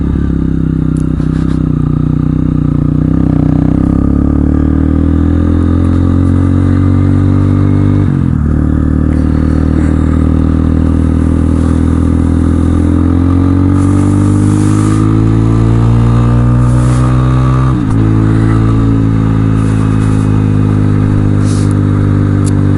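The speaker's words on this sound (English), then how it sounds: "Bike's running good." A motorcycle engine runs loudly and close by on a sub-zero winter ride, a steady throbbing drone whose pitch slowly rises and falls with the throttle, with brief dips in the sound.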